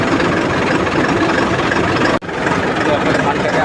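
A tractor engine idles steadily in the rain while paddy is unloaded, a broad continuous rumble with a brief dropout partway through.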